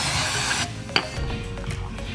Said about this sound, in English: Now we're just gonna clean this off and then spray it. I'm gonna use some parts cleaner.